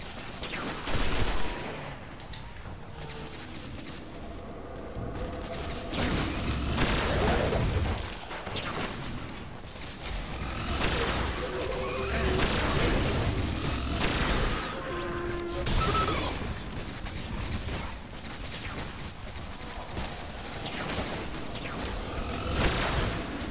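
Repeated gunfire bursts and heavy explosive booms from the video game Destiny on PS4, irregular and dense across a long stretch, with crashes and impacts layered in a busy, loud mix.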